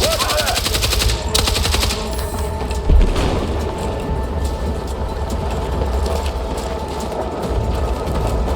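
Sustained machine gun fire in the Battlefield 6 video game, rapid bursts rattling loudly and almost continuously, with one heavier thump partway through.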